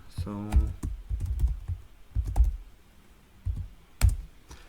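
Mouse and keyboard clicks at a computer while working in TIA Portal software: scattered sharp, close clicks in small irregular clusters, partly under a voice speaking.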